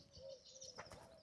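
Faint bird calls, including soft cooing and a few chirps, sound from a distance over low background noise.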